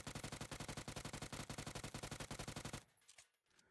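A UMP submachine gun in PUBG fires one long, rapid, evenly spaced automatic burst, loud and close, which stops abruptly and leaves a short tail of fading echo.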